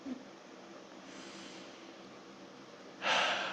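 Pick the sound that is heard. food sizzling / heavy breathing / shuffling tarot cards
heavy breathing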